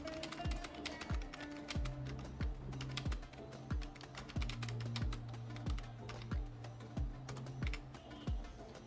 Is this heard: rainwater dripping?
no